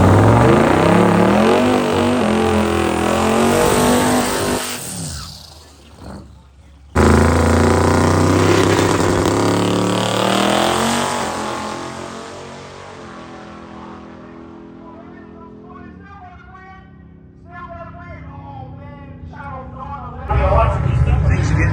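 Street machine drag car engine at a drag racing event, loud roaring revs that fade out, return abruptly and then drop away, with voices talking over the engine noise.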